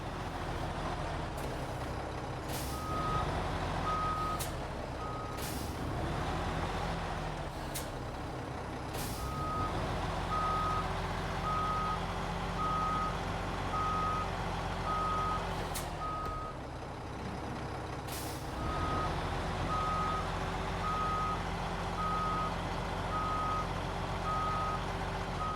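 A heavy truck idles and reverses while hooking up a trailer in a snowy off-road driving game, its reversing alarm beeping in repeated runs over the engine drone, broken by sharp hisses of air brakes.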